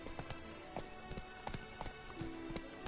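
Horse hooves galloping in The Witcher game, a steady, rhythmic clip-clop of sharp hoofbeats, close and clear, with no talk over them.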